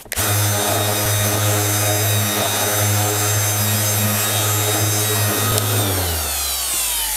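A power sander runs steadily on oiled wood, a loud continuous buzzing whir with faint scraping ticks, winding down in pitch over the final second as the tool stops.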